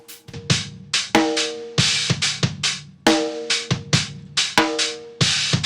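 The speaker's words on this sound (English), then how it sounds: "let's isolate the snares completely" Isolated snare drums run through heavy distortion: repeated sharp, crunchy hits in a steady groove with a few quick flams, each with a gritty ringing tail, loud and close with no talking.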